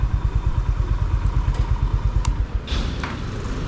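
Honda CB350 RS motorcycle engine idling close by, a steady rhythmic low thumping pulse with a few light metallic clicks over it.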